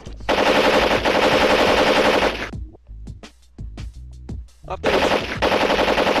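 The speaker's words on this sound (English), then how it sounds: "Fire those goddamn guns!" Machine guns firing in loud, dense sustained bursts at the start and end, broken by a quieter stretch of scattered single shots and clatter, with a brief spoken remark in between.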